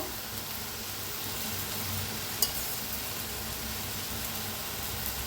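Crushed peanut powder is stirred into a dry drumstick pod vegetable dish in a pan, with a faint, even frying hiss and one sharp spoon click partway through.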